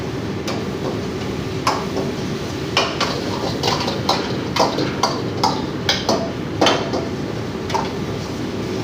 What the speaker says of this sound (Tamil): இப்போது அந்த சிக்கனை இதில் போட்டுருவோம்.